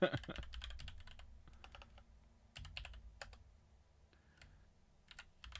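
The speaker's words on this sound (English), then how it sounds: "I'm just typing these in while you're doing it." Computer keyboard typing during an evening tabletop-miniatures livestream, a run of sharp key clicks in quick bursts with brief pauses, close and clear over a low background hum.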